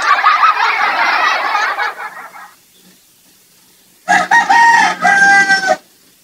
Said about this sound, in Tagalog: May background tayo, audio background na manok.